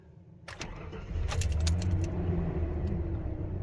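A Ford truck engine cranks and catches after keys jingle in the ignition, then settles into a steady low idle rumble, close and alone.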